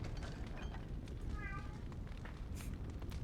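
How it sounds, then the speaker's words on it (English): A cat meows once, a short tonal cry in the middle of a noisy room, heard under a steady hum and faint background sounds during a Dragon Age: Origins game stream. "Yes, I know, there's a cat."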